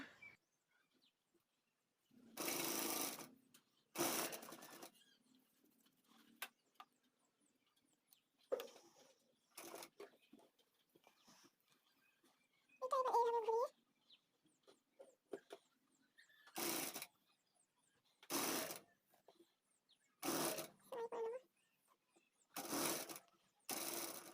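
A sewing machine stitches a baby frock in a series of short bursts, each a loud whirring run of a second or so, separated by pauses with faint handling sounds.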